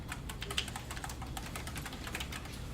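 Rapid, steady clatter of keys on a computer keyboard as a search is typed, continuous and close but fairly quiet, with no voices.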